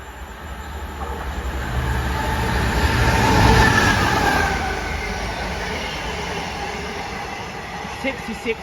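A diesel passenger train bound for Southport rumbles through a Cheshire station, its steady drone swelling to a peak mid-way and then easing off, close by and continuous.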